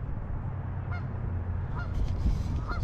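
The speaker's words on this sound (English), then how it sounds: "you got a little lake here with some geese hanging out" Geese at a small lake near Dunbar Cave honk a few times over a steady outdoor background rumble, the calls fairly faint and spaced apart.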